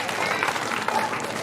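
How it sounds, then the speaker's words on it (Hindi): A village church audience at a cultural programme claps for a dance performance by a group of women, a brief, dense burst of applause that stays level with faint voices underneath. "इसके लिए जोरदार ताली बजा देंगे"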